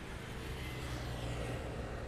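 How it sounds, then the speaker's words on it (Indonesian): Steady road noise from cars and motorbikes speeding past on a busy road, a continuous wash of engine and tyre sound at a moderate distance with no distinct individual passes. "Dan kencang-kencang mobil motor yang lewat sini."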